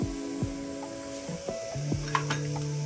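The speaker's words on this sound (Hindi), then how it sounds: "अच्छे से भूनेंगे। तो देखिए अब ये प्याज भून चुका है।" Onions frying in a pan, a low steady sizzle with a few brief scrapes and taps of a spoon, close and fairly quiet, no voices.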